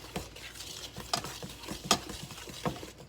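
A wooden spoon stirring thick cowboy cookie dough, with soft repeated scrapes and thuds against the bowl at an irregular pace, close and fairly quiet.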